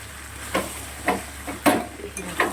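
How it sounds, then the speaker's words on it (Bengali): Meat being stir-fried over high gas sizzles steadily in a pan, with a run of louder scraping stirs coming roughly every half second, close by and without speech. "আরও মোটামুটি 4-5 মিনিট কষাতে হবে"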